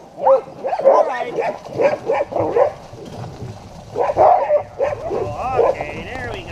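Sled dogs bark and yip excitedly in bursts before an Iditarod-style dog sled run in Juneau, loud and close, with several overlapping barks and people speaking among them.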